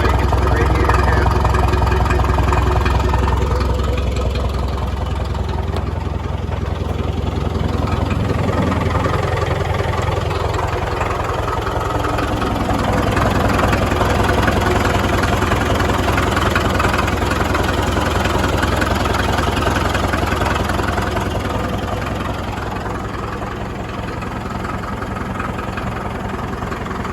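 A Caterpillar 922 wheel loader engine idles steadily, a loud, even, low rumble that holds for nearly half a minute without a break.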